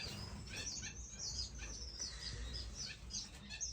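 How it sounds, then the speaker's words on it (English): Star finches chirp in a nest inside a bird room, with quick high tweets repeating in irregular bursts throughout, fairly close and with no talking. "That's a star finch."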